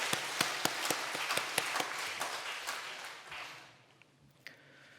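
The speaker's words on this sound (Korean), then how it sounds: "우리 왕 되신 주님께 영광의 박수" A church congregation at a Sunday worship service claps in a steady, even rhythm, with sharp individual claps standing out before the applause thins and fades to near quiet.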